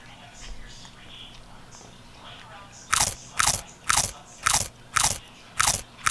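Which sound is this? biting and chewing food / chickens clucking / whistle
biting and chewing food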